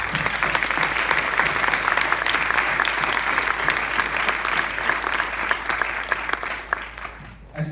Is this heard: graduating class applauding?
yes